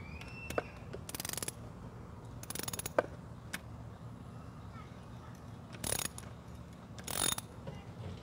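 Mounting screws being tightened with a ratcheting tool, heard as several short, quiet bursts of rapid clicking separated by pauses.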